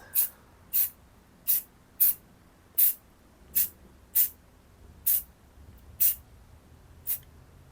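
Short, sharp hisses from a spray can laying a light coat on a part of a 1973 Harley Sportster, about eleven separate bursts spaced evenly with quiet gaps between them.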